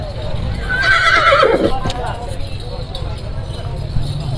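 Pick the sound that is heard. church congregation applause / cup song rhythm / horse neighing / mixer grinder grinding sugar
horse neighing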